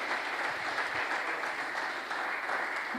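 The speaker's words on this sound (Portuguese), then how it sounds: "Dê uma salva de palmas a Jesus" A church congregation claps steadily at a midweek service, dense and even throughout with no pauses, filling the room at a moderate distance.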